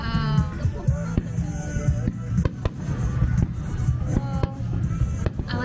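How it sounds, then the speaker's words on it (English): A fireworks display in Japan sends repeated sharp bangs and crackles through a crowd, with people chattering and background music running under the bursts. "Fireworks in Japan a lot better than America."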